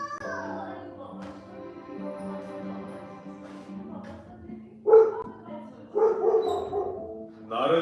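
A voice imitates a dog in a dramatized story, with drawn-out whining tones followed by several loud, sharp barks close up, spread over a few seconds.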